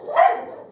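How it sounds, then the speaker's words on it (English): A dog gives a single sharp, loud bark nearby, set off by a parcel delivery, then quickly falls silent. "My dog just went bananas."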